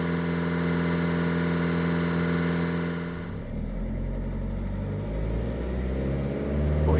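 Vauxhall Vivaro diesel van engine, steady loud idle drone that shifts as the revs climb and fall through the range, close and continuous with no talking.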